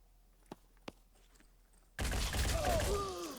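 Gunfire in the turn-based strategy game Phoenix Point: two sharp, isolated shots ring out, then a dense, loud burst of firing and impact noise with whistling tones erupts and sustains to the end.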